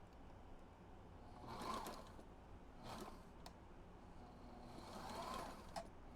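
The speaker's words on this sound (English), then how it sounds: "And see if I can just sew that on." Sailrite sewing machine stitching a magnetic shade, heard as short bursts of mechanical whirring and needle chatter separated by quieter pauses, close by with no talking.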